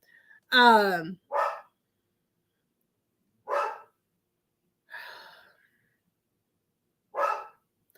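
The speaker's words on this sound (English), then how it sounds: "he barks out the window the whole time" A dog barks out a window in a few separate loud bursts, one longer howling bark followed by single barks spaced a second or two apart with silence between.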